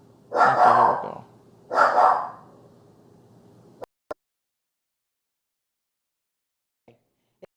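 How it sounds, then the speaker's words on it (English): A dog gives two loud, close barks a second or so apart, followed by a few faint clicks and near silence. "I apologize if you hear my dog barking."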